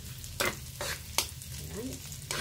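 Mung beans frying and being stirred in a home pan, with a steady low sizzle broken by several sharp scraping stirs spaced about every half second to second, close and moderately loud, with no talking.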